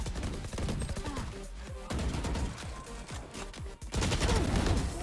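Gunfire from the Valorant shooter game comes in several quick bursts of sharp shots over busy game noise, with a short gap before a louder final burst.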